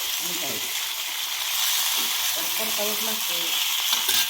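Eggplant curry with black masala being sautéed in a pan, a steady sizzle under intermittent voices talking nearby.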